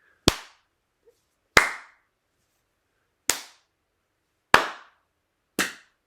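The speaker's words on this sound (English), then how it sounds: "You have a very weak clap" Five separate hand claps, thin and weak, spaced unevenly about a second or more apart, each a short sharp snap with a quick decay in an otherwise quiet room.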